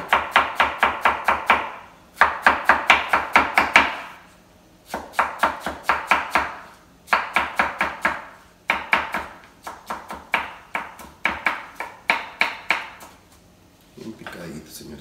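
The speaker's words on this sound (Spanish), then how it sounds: "Nomás voy a picar esto un poquito" Knife chopping ingredients on a cutting board while preparing soy ceviche, rapid bursts of sharp taps in repeated runs separated by short pauses, close and loud.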